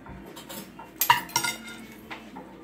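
A small spoon clinks against dishes at a table during a Filipino mukbang, a few sharp bright clinks clustered in the middle amid soft handling noises, close and fairly quiet.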